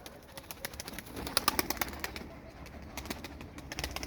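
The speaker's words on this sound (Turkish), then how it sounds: "Abiler bakın şu kuş kaçak." Pigeons flutter and coo nearby, with a burst of wing flaps and scattered bird calls over a steady outdoor background.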